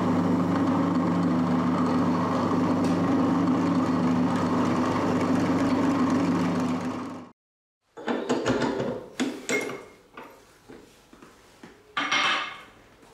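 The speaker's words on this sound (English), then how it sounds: "I'll start by just machining this out to 1/2 inch" A metal shaper machines a part for a magnetic vise down to half an inch, a loud steady mechanical hum for about seven seconds, then it stops and close metallic clanks and knocks follow.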